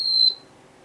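A Villaware waffle maker gives its ready alarm, a single short high-pitched electronic beep that stops abruptly and leaves near silence afterward.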